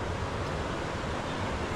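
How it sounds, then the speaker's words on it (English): A massive waterfall in the Marquesas, falling hundreds of feet down a cliff, gives a steady, dense roar heard from a distance, with no voices over it. "Look at that waterfall."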